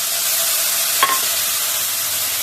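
Fenugreek seeds and cumin paste hitting hot oil left over from frying fish, a loud, even, close sizzle that holds steady throughout, with one brief clink partway through.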